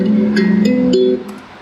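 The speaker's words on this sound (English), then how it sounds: "the original guitar lele sample sounds like this" A guitalele sample plays a short melodic phrase of a few plucked, ringing notes over about a second, clear and close with no talk, before fading out.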